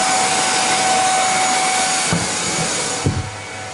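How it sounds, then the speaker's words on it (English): A Hoover vacuum cleaner runs steadily with a loud, constant whine and broad roar, then a couple of brief knocks as it is moved near the end. "just for comparison, let's try it with the crappy Hoover"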